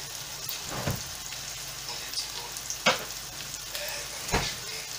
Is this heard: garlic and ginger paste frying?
yes